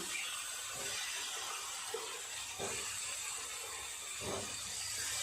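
Fried potatoes are stirred with spice paste in a hot pan, giving a steady sizzling hiss broken by a few soft scraping knocks of the spoon, close and fairly quiet, without talking.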